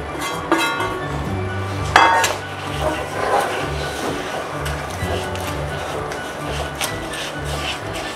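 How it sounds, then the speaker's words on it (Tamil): A spoon scrapes and clinks against a pan while honey, butter, sugar and roasted oats are stirred over a medium flame, irregular metallic knocks and scraping over a steady background hum, close and fairly loud. "மீடியம் ஃப்ளேம்லேயே வச்சு, கொஞ்சம் சிம்லேயே வச்சு நல்லா கிண்டிக்கோங்க."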